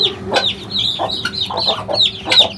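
Hen clucking in short repeated bursts among other farmyard poultry calls, close and fairly loud, with several overlapping bird voices.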